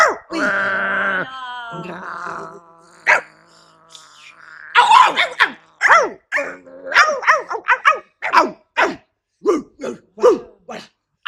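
During a clown workshop, a person imitates a barking dog with voiced growls and whines, then a rapid series of sharp, close barks and yips with brief pauses between them.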